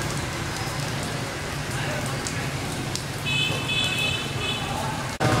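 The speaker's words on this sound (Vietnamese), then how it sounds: "Vừa rồi thì mình trú mưa đấy các bạn ấy." Steady rain falls near a large wholesale market in Thu Duc, forming a constant broadband hiss throughout, with a faint electronic beeping briefly above it and a short dropout near the end.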